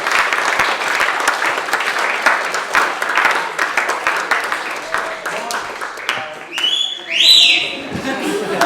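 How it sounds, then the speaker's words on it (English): A pub audience at a skeptics talk gives a big round of applause, dense and steady for several seconds, then fading into scattered chatter, whoops and laughter. "big round of applause please for our speaker,"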